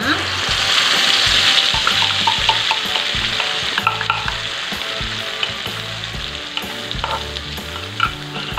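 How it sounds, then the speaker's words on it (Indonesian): Spice paste for a fish-head curry sautés in preheated vegetable oil, a loud, dense, continuous sizzle and crackle with busy stirring scrapes throughout, close up and with no voices. "Sekarang aku mau langsung aja tumis bumbunya."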